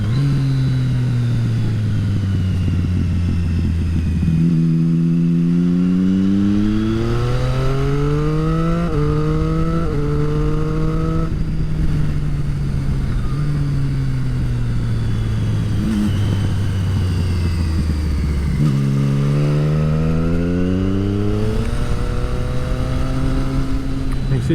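Motorbike engine while riding country roads near the Malvern Hills, a loud, close drone that climbs and falls through repeated gear changes and revs, continuous throughout.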